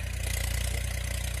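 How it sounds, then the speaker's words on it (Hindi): A tractor engine runs steadily as a boy ploughs a field, a close, continuous mid-to-low rumble with a fine regular throb and no talk over it. "एक छोटा सा लड़का ट्रैक्टर चला रहा है और खेत में हल चला रहा है"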